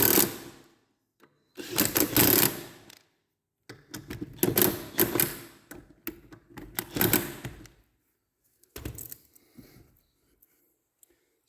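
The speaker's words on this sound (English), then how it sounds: "And then get out your torque wrench." A torque wrench tightens axle bolts on an electric slope mower, giving several bursts of rapid ratcheting clicks separated by pauses, close by, with no talking.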